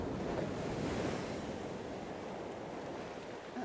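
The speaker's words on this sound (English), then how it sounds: "we want some big waves" Sea waves break and surge steadily on the shore, a loud continuous wash mixed with rumbling wind noise buffeting the microphone, with no voices.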